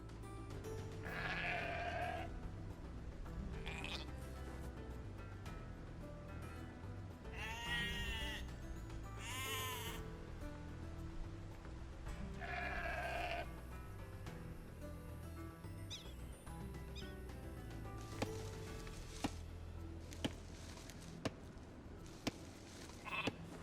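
Sheep bleat several times in Age of Empires 2 Definitive Edition on Xbox Series X, a few clear calls standing out over steady background music and ambient sound.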